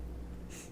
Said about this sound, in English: He just started breathing so loud.